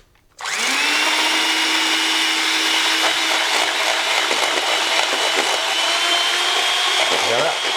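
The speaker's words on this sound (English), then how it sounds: "And we're going to whisk this up." Eggs and sugar being whisked together in a bowl for a carrot cake, a steady high motorized whirr that starts abruptly and runs loud and even, dipping slightly at the end.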